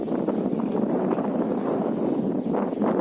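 Strong wind from Cyclone Remal blows over a village paddy field in a continuous, rough roar right up against the microphone, with nothing else heard.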